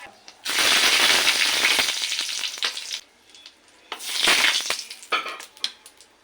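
Bay leaf, cumin seeds and a dried red chilli hit hot mustard oil for masoor dal, sizzling loudly in two strong bursts with crackling spatters that fade between them, fairly close.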